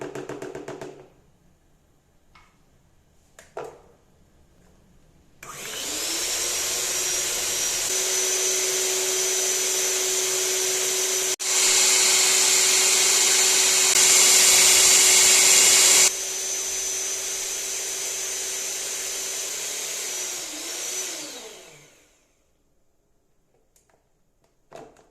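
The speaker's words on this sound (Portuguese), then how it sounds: "vou ligar a batedeira" An electric mixer beating pineapple cake batter whirs loudly and steadily for about fifteen seconds, rising briefly in speed before winding down, with quiet gaps before and after.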